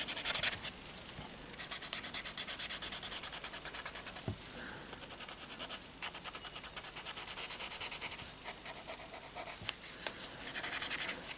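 A paper tortillon blending graphite on drawing paper, heard as quiet rhythmic rubbing strokes in steady back-and-forth bursts with brief pauses, close and soft with no voices.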